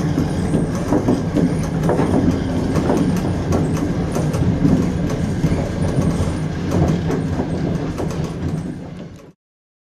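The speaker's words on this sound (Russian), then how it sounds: "в данный момент я еду в поезде Екатеринбург" Inside a moving Adler–Yekaterinburg passenger train carriage, a steady rumbling roll with rhythmic clickety-clack of wheels on rail joints, continuing then cutting off abruptly.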